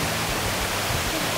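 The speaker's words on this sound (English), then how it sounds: "What is the name of these falls? Flat Creek Falls in the background." Flat Creek Falls in western North Carolina, a constant broadband roar of falling water heard close and loud throughout, with no voices.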